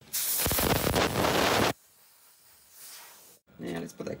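A short, loud burst of blown air hisses across a laptop's plastic back cover for under two seconds, followed by quiet, then someone speaking.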